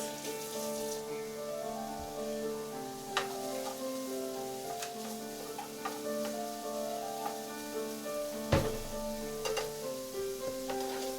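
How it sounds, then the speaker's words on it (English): Steady sizzling of pastrami hash with peppers in a frying pan, with scattered clinks and scraping of a utensil stirring, no voices. "Oh, that sizzle."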